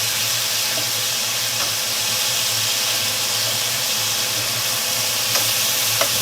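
Thick-cut maplewood bacon fries in a pan with a steady, dense sizzle and crackle, close and constant, with a few faint pops near the end and no talking.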